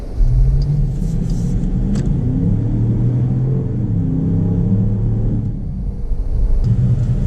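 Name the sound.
2019 Jeep Grand Cherokee Summit 5.7 liter Hemi engine accelerating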